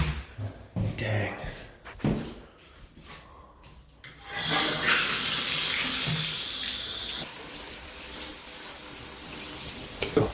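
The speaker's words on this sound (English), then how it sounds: "I'm gonna have the girl upstairs run the tub, make sure there's no leakies" Water gushes steadily from a tap into a bathtub with drainage problems, a loud continuous rushing that begins after a few seconds of knocks and handling sounds and runs on to the end.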